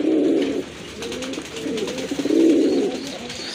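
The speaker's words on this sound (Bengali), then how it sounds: "মাশাআল্লাহ, আরেক জোড়া কবুতর" Fancy pigeons, including black muki birds, coo in low, throaty bursts at a pigeon sale, several rolling calls close by with brief pauses between them and no talking.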